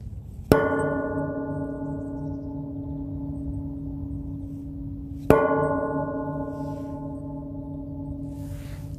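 Two loud, ringing bell strikes about five seconds apart, each with a sharp attack and a long, slowly decaying metallic tone, recorded as the bell sound for a song cover.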